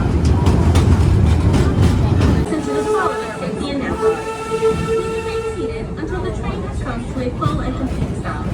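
A Busch Gardens railway train rolls across a trestle with a rumbling, clattering run of wheels on track and a squealing tone midway, while an announcer's voice speaks over the ride noise.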